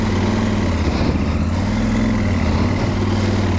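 A KTM 790 Adventure R motorcycle sits with its rear wheel spinning uselessly in mud, the engine holding a steady, close, droning rumble with little change in pitch and no voices.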